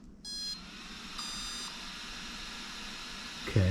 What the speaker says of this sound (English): is it going to beep saying how many cells it is?